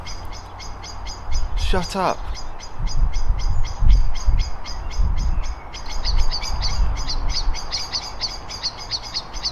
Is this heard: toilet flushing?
no